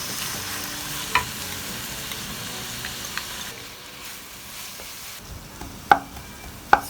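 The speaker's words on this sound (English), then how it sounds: "the first thing that goes in is we're going to brown the garlic" Garlic and onions browning in rendered sausage and bacon fat for chilli con carne, a soft steady sizzle with occasional sharp clinks and stirring scrapes.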